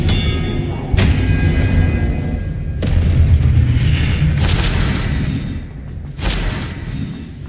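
Confringo fire spell blasts in the Hogwarts Legacy video game: four heavy booming bursts, each a sudden broadband crack with a low rumble, spaced a second or two apart over a continuous rumbling game backdrop.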